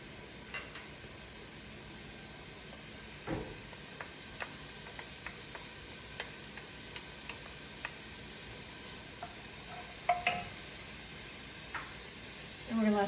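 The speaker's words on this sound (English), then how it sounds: "next we're going to add in our garlic" Garlic frying with onions in a pan for white chicken chili, a faint steady sizzle with scattered light taps and scrapes from stirring.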